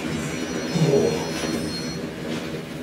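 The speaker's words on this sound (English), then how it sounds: "This is a ghost train, this one." A ghost train rolls along rails in the video game Metro Exodus, a rumbling, grinding approach with faint metallic squeals, moderately loud and steady with no speech.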